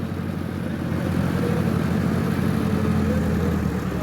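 Two Massey Ferguson 385 tractors strain in a tow-chain contest, their diesel engines giving a steady loud rumbling drone with a pulsing low throb, close and continuous.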